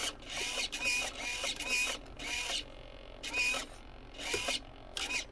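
A small plastic-gear servo drives the rudder linkage of a fast electric RC boat in repeated short whirring bursts, about seven close buzzy strokes separated by brief pauses.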